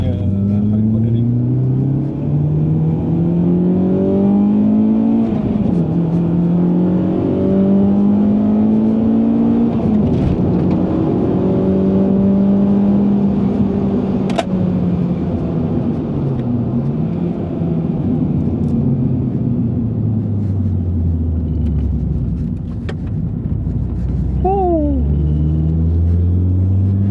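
Honda Accord Euro R driven hard through corners, its engine note rising and falling in strong harmonic sweeps, loud and close throughout with a brief dip near the end.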